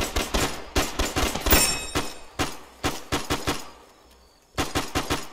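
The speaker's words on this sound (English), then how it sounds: "They're shooting." Automatic gunfire from the video game Arma 3, firing in rapid bursts of sharp cracks, a dense volley early on, then short clustered bursts separated by brief pauses, with no voices.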